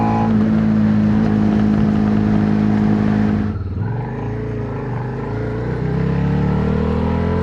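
A Suzuki SV650 motorcycle engine runs loud and close, holding a steady high rev before dropping to a lower idle and then building again toward the end.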